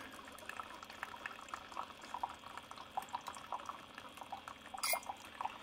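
Keurig K Elite K-Cup coffee maker dispensing brewed coffee: a soft, continuous gurgling, bubbling pour with a faint pump hum, steady and close but quiet, briefly louder near the end, no speech.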